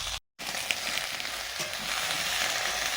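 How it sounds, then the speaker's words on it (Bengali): Chopped pumpkin and Malabar spinach vegetables fry in hot oil with a continuous, even sizzle close by, briefly cut out for a moment near the start. "ঘন্টের সবজিগুলো প্রথমে ভেজে নিচ্ছি, ভেজে সেদ্ধ করে নেব।"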